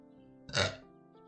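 One short, close burp stands out sharply against faint background music.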